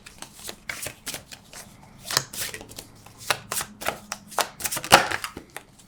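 A Thoth tarot deck being shuffled by hand, a run of crisp papery riffles and card slaps close up, steady at first and building to a sharper burst near the end, with no talking.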